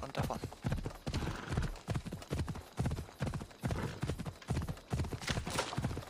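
Rhythmic hoof clip-clop of a galloping horse in the video game Assassin's Creed Odyssey, steady and fairly loud, with an occasional whinny and faint voices now and then.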